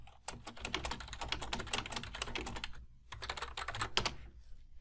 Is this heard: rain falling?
no